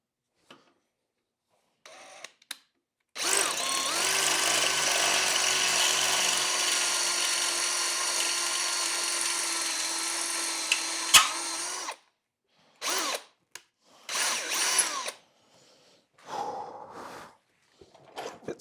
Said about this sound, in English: Try drilling this one out now.